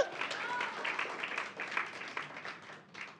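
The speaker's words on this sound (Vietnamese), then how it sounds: "chúng ta vỗ tay chào đón điều đó đi" A church congregation at a Sunday service claps in welcome, a moderate, somewhat distant patter of hands with a preacher's voice running over it.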